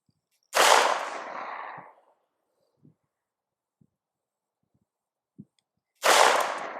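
Two sharp, loud handgun shots from a new shooter at the range, several seconds apart, each with a ringing decay, separated by a few faint clicks.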